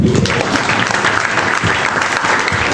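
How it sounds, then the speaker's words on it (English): Steady, loud applause from a packed comedy club crowd at the Funny Stop on a Thursday night, continuous dense clapping with no break. "Another round of applause for everybody saw tonight."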